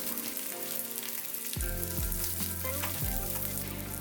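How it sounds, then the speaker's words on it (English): Green chilies sizzle in a hot pan for chili paneer, a loud, dense crackling sizzle close up that grows busier partway through, with faint stirring and no speech. "Then we'll add some green chilies, not too much because we've already added red dry chili to it before"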